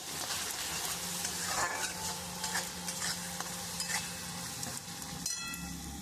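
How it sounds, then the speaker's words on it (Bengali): Spice masala with chili powder and salt sautés in a pan for an eggplant and fish curry, a dense continuous sizzle under steady stirring and occasional spatula scrapes, close and even throughout. "আমি মশলাটা দিয়ে খুব ভালো করে আমি কষিয়ে নেব"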